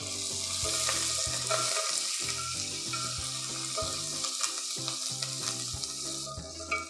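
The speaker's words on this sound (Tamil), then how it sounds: "வெங்காயம் நல்லா ஃப்ரை ஆகிடுச்சு." Onions frying in a pan with curry leaves and green chillies, a steady close sizzle running throughout with a low rhythmic musical backing underneath, no talking.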